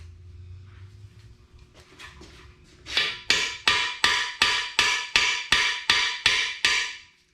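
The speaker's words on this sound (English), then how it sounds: "Then you just slightly hammer it in until it goes past the little bevel right here." About eleven sharp, evenly spaced hammer blows driving a seal into a Small Block Chevy engine, loud and close, each strike ringing briefly, preceded by quieter handling and light taps.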